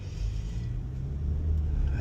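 Road traffic on a foggy winter day in Sarasota, a steady low rumble of passing cars that swells slightly, with no voices.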